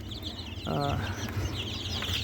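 A desi chicken gives a short run of clucks at a low level over a constant hum, with faint chirpy bird calls in the background.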